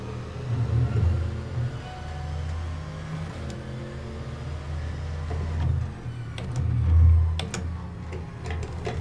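A video game racing car's steady low engine drone on the Nordschleife in rFactor 2 runs throughout, rising into a louder revving swell near the end, with faint ticking clicks scattered on top.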